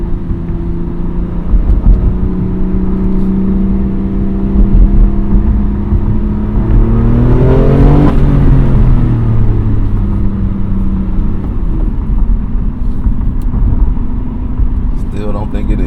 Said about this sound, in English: Hopefully the engine is warm enough by now.